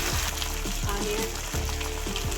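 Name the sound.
onion frying in a pan for lemon rice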